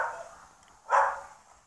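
In a kennel holding dogs that bite when handled badly, a single bark rings out at moderate distance after a quieter stretch, then fades away.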